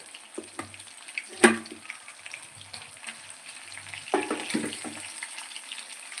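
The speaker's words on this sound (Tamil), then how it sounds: "மீன் வந்துட்டு நல்லா பொரியணும்" Fish frying in oil in a home kitchen, a steady faint sizzle and crackle with brief louder spatters and a clink of stirring, no voices.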